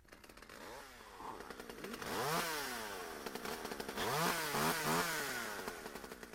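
Chainsaw-like whine in a modded survival game, rising and falling in pitch as it revs repeatedly over a continuous buzzing drone, fairly prominent with no talk.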